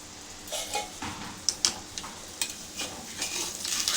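Ragi sarva pindi roasts in a covered kadai, a soft close sizzle under a series of light metallic clinks and scrapes as the flatbread and lid are handled, with no speech.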